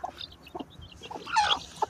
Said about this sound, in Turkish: Evet arkadaşlar tavuğumuz.